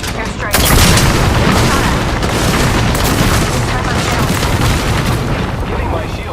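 Loud, dense rumbling blasts of an airstrike in a shooter video game, a continuous roaring barrage after a sudden onset, with gunfire mixed in and a voice talking over it.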